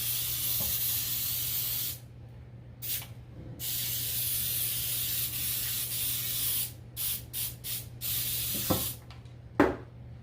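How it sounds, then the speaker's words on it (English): Several hissing bursts from a can of cooking spray onto a loaf pan, a few long sprays followed by quick short spurts, close by over a steady low hum. "So we're going to spray our pan."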